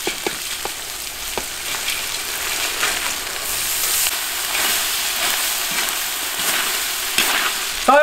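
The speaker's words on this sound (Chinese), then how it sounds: "把这炸好的这发财蟹倒进去" Deep-fried crabs tossed and stir-fried in a hot wok with chili peppers, a steady loud sizzle and hiss with scraping stirs and clinks of the spatula, close up and without talk.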